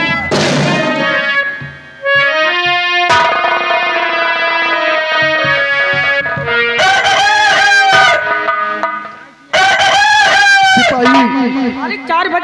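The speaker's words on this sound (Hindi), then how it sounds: "4 बजे का मुर्गा बोले ला" A rooster crows loudly and close in several long, harmonic calls, one after another with brief gaps, in a dramatic village setting.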